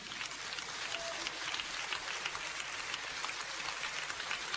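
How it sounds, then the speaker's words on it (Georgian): An audience applauds at a singing competition, a steady, dense wash of many hands clapping together, even and fairly distant, with no pauses. "ეს აპლოდისმენტები გაორმაგდება"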